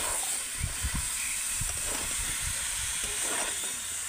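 Soaked jackfruit fries in spice paste in a pan, giving a steady, close hiss of sizzling with soft bubbling pops and stirring thumps underneath.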